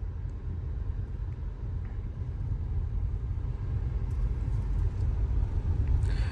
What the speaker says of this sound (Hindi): फर्स्ट टाइम में मनोज भाई काफी अच्छी कार चला रहे हैं।